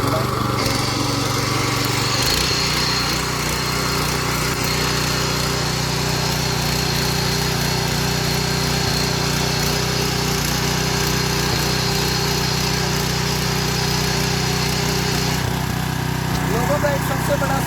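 A power tiller's small engine runs steadily and loudly throughout, a constant droning rattle with no pauses and a slight shift in pitch near the start.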